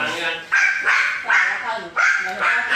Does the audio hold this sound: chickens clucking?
no